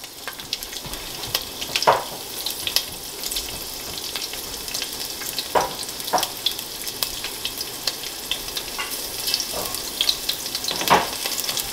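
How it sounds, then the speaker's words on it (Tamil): Four green chillies frying in hot oil for a Batticaloa-style crab curry, a steady close sizzle with scattered crackles and a few sharper stirring clatters. "இந்த ஆயில் சூடாகணுன்னே ஒரு 4 பச்சை மிளகாய்,"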